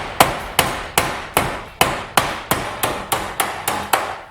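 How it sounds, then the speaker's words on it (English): Hammer blows on sheet metal, creasing bent edges of a Viking shield built from scrap: about eleven sharp, evenly spaced strikes in a steady rhythm, close and loud with brief ringing decay, no voices. "go ahead and bend it down like that and hammer on it to get the creases nice and sharp"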